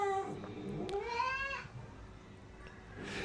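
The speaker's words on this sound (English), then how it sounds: "That cat's saying, stop that shit." A cat lets out a short, close, moderately loud meow that rises and falls, followed by a quieter second call, over a faint background hiss.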